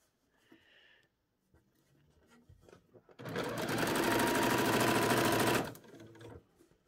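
A sewing machine runs a steady, loud burst of stitching along a skirt hem seam for about two and a half seconds, framed by quieter handling and rustling before and after.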